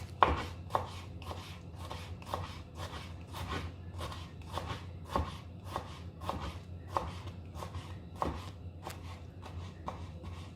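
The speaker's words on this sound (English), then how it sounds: "And then you cut it into strips, very fine strips." A knife chops chicken into very fine strips on a cutting board, a steady run of sharp, evenly paced close knocks that keeps going without a break, with no talking over it.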